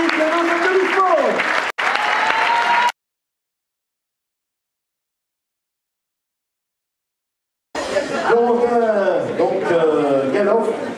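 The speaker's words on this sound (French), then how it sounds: "on peut les applaudir bien sûr très très fort" A crowd at a champions' trophy ceremony in Lure applauds young football players with loud, sustained clapping mixed with cheering voices, broken by a sudden stretch of total silence before the applause and shouting resume.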